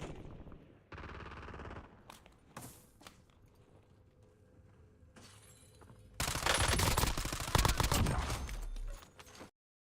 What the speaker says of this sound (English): Every time I shoot somebody and down them, I just get somebody shoot me in the back.